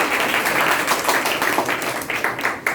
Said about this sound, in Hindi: अमित कुमार के लिए ताली बजाइए